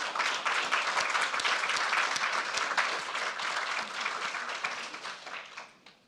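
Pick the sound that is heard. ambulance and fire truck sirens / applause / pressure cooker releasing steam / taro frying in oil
applause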